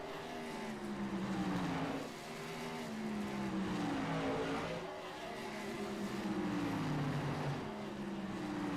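Whelen Modified race cars racing at South National racetrack, engines droning and rising in pitch in repeated waves as cars pass, with steady loud track noise throughout.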